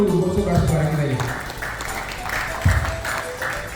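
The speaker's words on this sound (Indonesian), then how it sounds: "Jadi tepuk tangan dulu buat saudara-saudara kita ini." Applause rises at a Full Gospel Business Men's Fellowship chapter convention as award recipients are honored. The steady, moderate clapping runs beneath overlapping voices.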